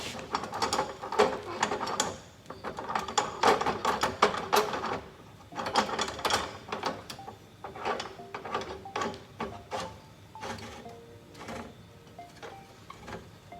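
Clamp on a metal cutting chop saw being tightened by hand, giving a run of clicking, ratcheting mechanical rattles in irregular bursts, close and moderately loud, with no talking.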